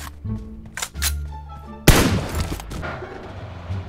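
Gunshots in a shooter video game, a few sharp cracks followed by a louder close burst of gunfire with a lingering rumble, with brief voices in the background.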